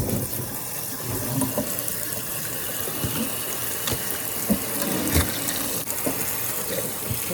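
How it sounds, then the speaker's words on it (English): Tap water runs steadily into a sink to rinse a dyed fine Rambouillet fleece, a continuous close splashing gush with small shifts as the wool is moved, no talking. "We are at the sink, and I've got the water running"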